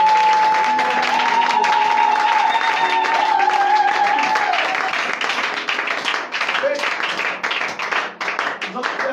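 A church congregation at a worship service claps and cheers for God, a loud wash of applause and voices that thins into scattered claps toward the end, with a speaking voice heard over it.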